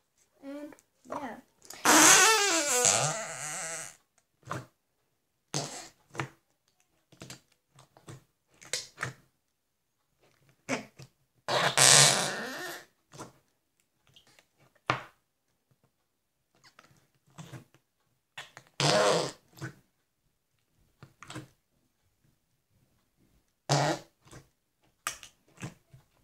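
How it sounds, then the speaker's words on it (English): Slime is squeezed to make fart noises, giving a series of wet, squelchy, flatulent bursts of varying length separated by quiet gaps, some short and sputtering, others drawn out, with a voice heard now and then. "They definitely sound like real farts."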